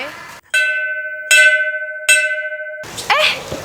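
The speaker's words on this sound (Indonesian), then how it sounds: "Udah bunyi bel tuh." A school bell rings in clear, loud bursts, three sustained metallic rings with a ringing decay, followed by a short burst of noisy movement at the end.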